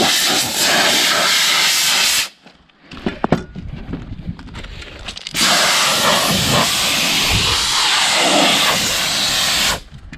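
Compressed air blasts dust out of a tractor's air filter on a farm in Denmark, a loud continuous hiss running for about two seconds, a short pause with clattering handling noise, then a second long steady blast.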